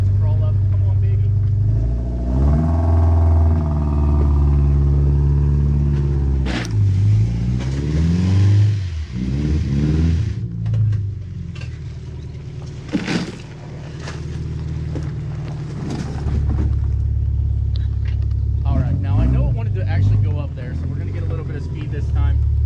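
Cheap all-wheel-drive Subaru crawling up a muddy hill in the rain with worn tires, engine droning and rising in revs, wind buffeting the microphone and a voice talking over it.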